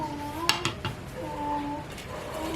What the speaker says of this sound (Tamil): இப்போ இதுக்குள்ள தூளையும் போட்டு தூள் அவியறதுக்கு மூடி விட போகிறோம்